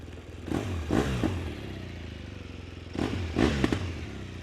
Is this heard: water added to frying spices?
no